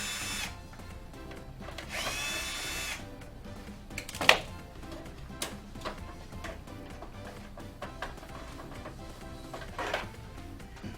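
A power driver unscrews two screws from the power supply of an HP 8100 printer, giving short whirring bursts at moderate volume with clicks and handling clatter between them.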